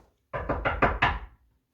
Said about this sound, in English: In the morning, there was a knock at the door.